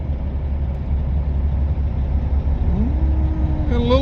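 Freightliner truck engine revving under a failing clutch, a steady low diesel rumble that rises in pitch near the end, heard up close from the cab.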